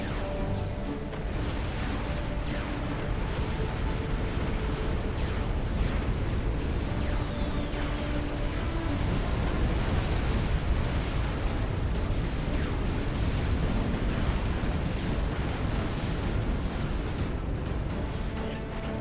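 Ships trade continuous cannon fire and explosions in a real-time strategy game battle, a dense and loud rumbling barrage that runs throughout without pause.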